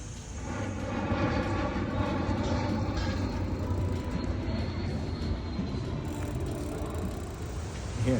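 An airplane flies in low toward Reagan National Airport in Washington, DC, a loud, steady jet roar holding throughout at close range, with no talk over it.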